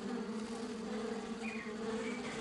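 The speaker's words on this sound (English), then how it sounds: "The nectar from the flowers attracts just about everything. Sadly for her, that includes bees." Bees buzz around the flowers of a sausage tree in the African bush, a steady close insect drone that holds for the whole stretch with no voices.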